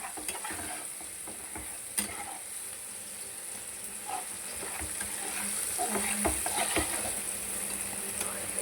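Masala fries in oil with prawns, giving a steady close sizzle broken by repeated stirring scrapes and clinks of a spoon against the pan, growing slightly louder toward the end.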